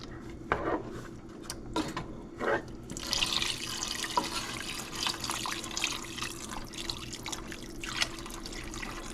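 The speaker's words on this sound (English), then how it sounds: "just add your water and just stir the roux in from side to side" Water splashing and trickling into a pot of roux for gumbo over several seconds, with occasional clinks and knocks, fairly close.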